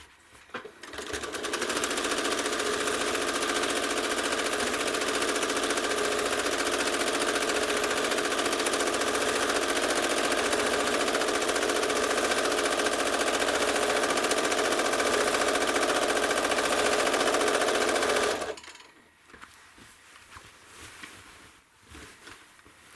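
A home sewing machine stitches a ribbon candy pattern across a quilt, a loud, steady mechanical whir running unbroken for about seventeen seconds before stopping, followed by faint handling noise.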